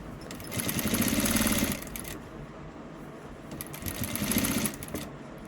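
Sewing machine fitted with an added motor, running alone in two loud whirring bursts separated by a quieter, steady mechanical hum.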